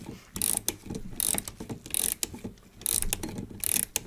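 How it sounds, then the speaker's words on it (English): Strike-side mainspring of an Ansonia kitchen clock being wound tight with a key, giving bursts of close ratcheting clicks in repeated winding strokes with brief pauses between. "Wind up the mainspring till it's quite tight,"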